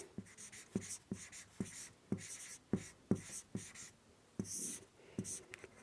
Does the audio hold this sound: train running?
no